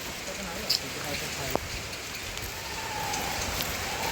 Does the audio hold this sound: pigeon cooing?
no